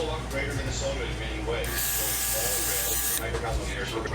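A cordless barber's airbrush sprays hair colour onto a thinning spot in a loud, close, steady hiss lasting about a second and a half, with a voice and quieter mechanical clicks around it.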